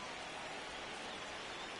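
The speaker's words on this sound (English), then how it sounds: "The rain is here, and it doesn't look like it's going to play anytime soon" Steady rain hissing across a ballpark in MLB The Show 26, a dense, even wash of drops with no breaks, moderately loud and continuous throughout.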